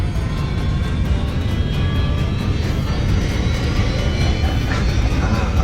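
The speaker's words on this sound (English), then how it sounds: "As Whip pushed the thrust to maximum, the engines roared violently." An airliner's engines at maximum thrust give a loud, continuous low roar that stays steady throughout, with no talk over it.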